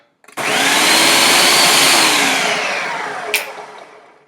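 Food processor roughly chopping onion and celery: a loud, steady broadband whir that starts abruptly and runs for about three seconds, slowly easing, with a short clatter near the end.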